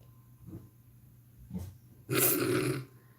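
A dog growls low and huffs, with two brief rumbling grunts followed by a louder, breathy, drawn-out growling exhale, close by in a quiet room.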